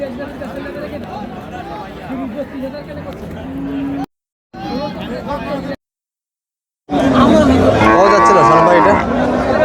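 Cows and heifers moo and shuffle amid the busy chatter of the crowd at Ambari cattle market, with people talking nearby; the sound cuts out briefly twice.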